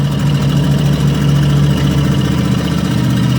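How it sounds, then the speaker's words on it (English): A struggling RV engine with serious problems drones loud and steady throughout, a heavy low idle-like rumble with an uneven, rough texture and no talking. "The vehicle has a hard time building up speed. It's got serious issues. Hear the noises there."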